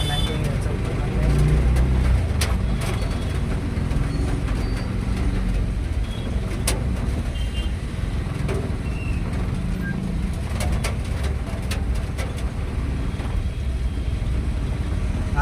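Road traffic moves through heavy rain in Pune, a continuous hiss of rain and tyres on wet road with engine rumble and scattered sharp clicks throughout.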